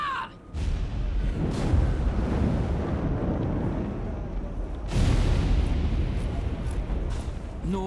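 Volley of gunfire from a line of shooters, two heavy booming blasts about four seconds apart, each rolling into a long rumbling decay amid wind noise.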